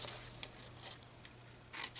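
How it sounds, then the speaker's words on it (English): Several quick scissor snips trimming paper cut in irregularly, close and soft, over a low steady hum. "Now I'm just going to use my scissors"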